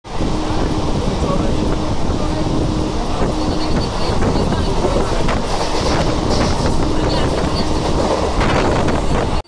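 A train rumbles on loudly and without a break, its low steady roar mixed with wind buffeting the microphone.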